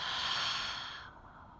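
A deep, slow exhale released through the mouth during yoga breathing in a vinyasa class, a soft breathy rush lasting about a second before fading away.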